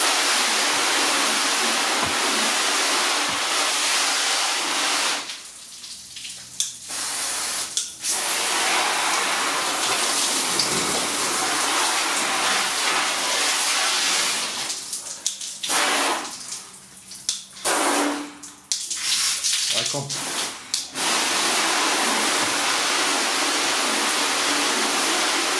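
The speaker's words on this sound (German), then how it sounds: "Spülen wir jetzt noch mal ab." Water spray rinsing off a car after spray wax, a loud steady hiss of jetting water that stops briefly several times and restarts, with short quieter gaps between bursts.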